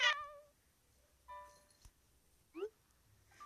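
A cat villager in the video game Animal Crossing gives several short, clear meows spaced over a few seconds, separated by quiet gaps, and no one speaks.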